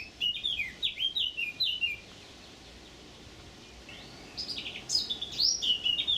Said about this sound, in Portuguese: por onde passei sob o canto solo insistente de um pássaro que, por mais que tentasse, não consegui ver